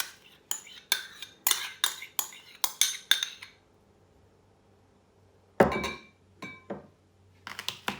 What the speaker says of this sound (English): I'll mix it all together.